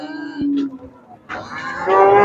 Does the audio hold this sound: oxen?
yes